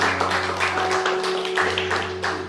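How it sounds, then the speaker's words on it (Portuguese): A church congregation claps in praise, with loose, pulsing bursts of applause over a steady low hum of sustained musical tones, moderately loud throughout. "Você pode aplaudir o Senhor Jesus?"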